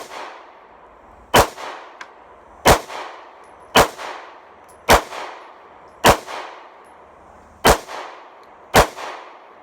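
Seven loud, sharp 9mm shots from a Smith & Wesson SD9VE or Shield pistol fitted with an Apex trigger, fired one-handed at a target 18 feet away, spaced roughly a second apart, each with a short ringing tail and no talking.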